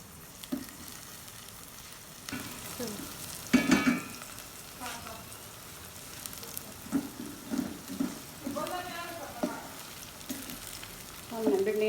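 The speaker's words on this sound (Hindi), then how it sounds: "हल्की आंच पर भिंडियाँ फ्राई करेंगे" Okra frying on low heat, a gentle steady sizzle broken by repeated stirring scrapes and light knocks of a utensil against the pan.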